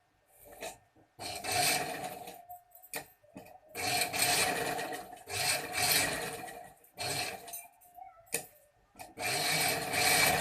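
A sewing machine stitching the button placket of a gents' kurta along a paper edge, running in several loud, close bursts of rapid whirring stitches separated by short silent pauses, with no talking.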